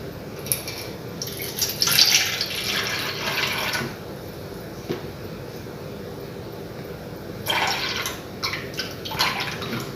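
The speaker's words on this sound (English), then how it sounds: "just pour until 100 milliliter" Water poured into a lab measuring container up to the 100 mL mark during an accuracy and precision measurement exercise; a steady splashing stream, close by, swelling and easing in a few surges, with no talk.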